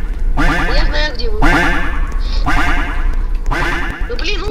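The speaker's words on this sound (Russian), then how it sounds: "Сзади меня утка!" A cartoonish duck in a video game quacks in repeated bursts, about four squawky rounds spaced roughly a second apart, loud and close, with a person talking over them.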